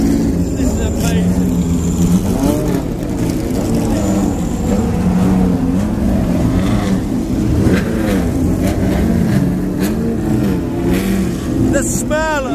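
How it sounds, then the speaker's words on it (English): Engines of classic BMW race cars in the paddock at the 2012 Le Mans Classic: a loud, steady engine roar with rising and falling revs runs throughout and builds near the end. Voices are heard over it. "The car's noise is literally shaking you internally."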